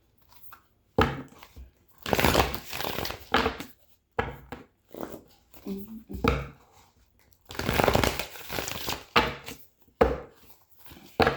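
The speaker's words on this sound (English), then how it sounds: "This deck shuffles so good because it's worn in like an old bottle." A worn-in oracle card deck is shuffled in several quick bursts of riffling and papery slapping, close and clear, with short quiet pauses between each round.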